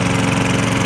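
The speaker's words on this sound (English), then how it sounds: "I believe it sounds like a normal lawnmower now in my mind." A repaired walk-behind lawnmower engine runs steadily and loudly up close, a continuous chugging drone with even vibration and no other sounds.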